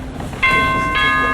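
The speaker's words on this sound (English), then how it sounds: "There's the doorbell again!" A doorbell's bright ringing chime starts abruptly and sustains with steady tones, then strikes again partway through, fairly loud over a low background hum, during a high school stage play.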